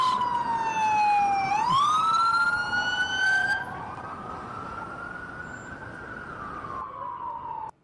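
Police car sirens wail loudly during street protests in Los Angeles, sweeping down and up in pitch, then fade to a fainter, more distant wail before cutting off abruptly.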